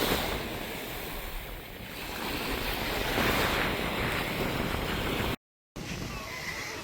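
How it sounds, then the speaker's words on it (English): Ocean waves washing up over bare feet on a soft-sand Bahamas beach at Celebration Key, a loud, continuous surging wash mixed with wind buffeting the microphone, swelling midway, with a brief dropout near the end. "I'm gonna let the waves come over my feet."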